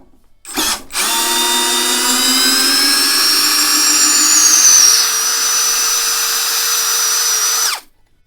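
A Leader Ultra 20V cordless impact screwdriver backs out a long screw in one loud, steady whine of about seven seconds after a brief starting blip, its pitch drifting slightly as the screw loosens, with no voices.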